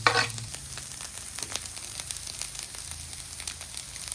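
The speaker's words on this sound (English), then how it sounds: "I want to start getting some char and some color on this Spam" Spam slices frying on a Blackstone griddle to get char and color, a steady close sizzle with crackling pops and a sharper scrape or clatter at the start.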